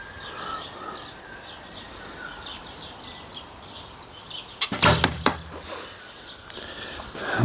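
A single arrow loosed from a bow on an ILF archery riser gives a sharp, loud snap and thwack near the close of the clip, with brief echoing clatter after it, over a quiet outdoor bed of faint birdsong.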